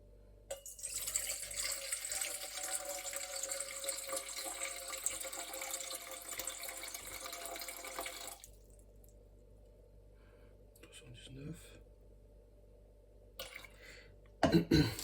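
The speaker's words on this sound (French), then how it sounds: "on va commencer avec l'eau. 322 g d'eau." Water poured steadily into a bowl for pizza dough, a bright continuous splashing stream for about eight seconds that stops abruptly, followed by quiet handling noises and a few clunks near the end.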